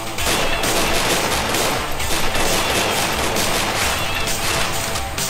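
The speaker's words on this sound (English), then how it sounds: "He got a sniper rifle." Sniper rifle and other gunfire from the video game Strike Force Heroes 3 rattle in a dense, loud, continuous barrage of overlapping shots lasting the whole stretch, with no voices.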